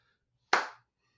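A single sharp hand clap lands alone in near silence, close and crisp with a quick decay, part of keeping an Arabic rhythmic cycle while singing.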